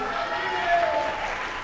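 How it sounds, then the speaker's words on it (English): Crowd applause at a high school diving meet rings out in a steady, moderately loud patter of claps with some cheering in an indoor pool, a short burst. "gets a rousing applause"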